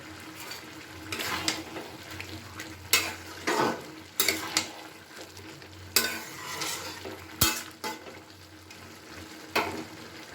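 Fried potatoes are stirred into a fish-head cabbage curry in a pan: a soft bubbling simmer broken by repeated scraping spoon strokes and a sharp metallic knock, close by with no voices.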